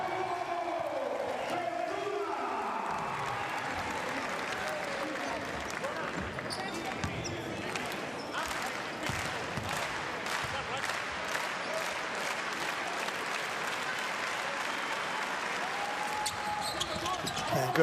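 Arena crowd at a FIBA World Cup 2023 qualifier basketball game between Portugal and Montenegro, a faint, steady wash of applause and cheering with rapid clapping building over time, distant under the court ambience.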